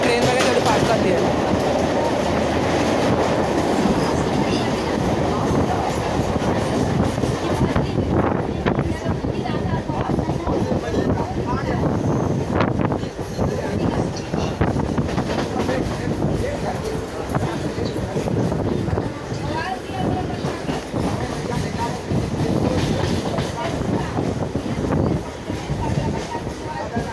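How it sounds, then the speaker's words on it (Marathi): A train running fast on rails, its continuous loud rumble and rhythmic wheel clatter filling the whole stretch, with a voice talking faintly over it. "ट्रेन वगैरे थोडी फास्ट चालली आहे."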